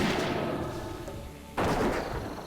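A giant hurls a boulder in World of Warcraft Classic, landing as a loud sudden thud midway through continuous game noise.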